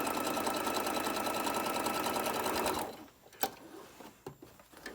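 A sewing machine stitches a small tote bag in one steady, rapid run for nearly three seconds, then stops, leaving faint handling noises.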